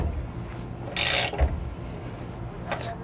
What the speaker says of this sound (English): we'll come back with our socket wrench and tighten it down